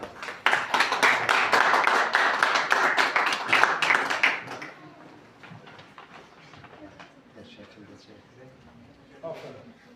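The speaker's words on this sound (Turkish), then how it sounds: "Alkışlar ya." Audience clapping breaks out loudly at a school award ceremony and lasts about four seconds, then fades into low crowd murmur and chatter for the rest of the clip.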